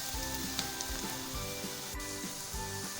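White cumin seeds frying in a pan with softened onions hiss with a constant close sizzle, steady and dense throughout, with no talking.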